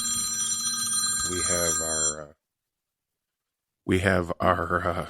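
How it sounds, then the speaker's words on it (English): A phone rings for about two seconds under a voice, stops, and leaves a stretch of silence before he resumes speaking. "Excuse my phone ringing."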